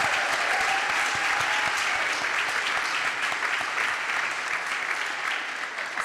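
A crowd claps steadily for a poet at a live poetry and music performance, broad continuous applause holding at even strength throughout with only a slight fade near the close.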